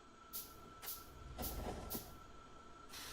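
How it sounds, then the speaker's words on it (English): A train in the video game Factorio runs along its track, a soft steady rolling hum with a few sharp bursts of noise spaced through the clip, quiet and alone. "Come on, choo-choo train."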